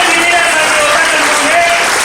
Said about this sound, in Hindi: हेमंत जी, ताली होनी चाहिए उनके लिए